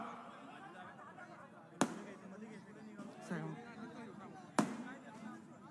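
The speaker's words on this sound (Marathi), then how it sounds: "कृपया फटाके थांबवा" Firecrackers burst at an outdoor political rally, two sharp loud cracks about three seconds apart, with a smaller pop between them, over steady crowd chatter and an announcer's voice.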